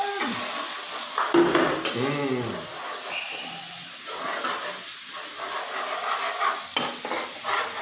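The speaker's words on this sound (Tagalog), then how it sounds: "isang damakmak na mantika para sa damakmak na bawang at sibuyas" Garlic and onion sauté in a generous pool of oil, giving a soft steady sizzle under close clattering and scraping of a utensil against the pan, with occasional louder knocks.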